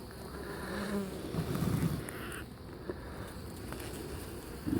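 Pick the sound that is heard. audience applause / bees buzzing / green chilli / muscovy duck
bees buzzing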